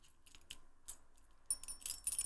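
A set of keys is jangled gently near a microphone, giving faint, delicate metallic clinks that grow busier toward the end.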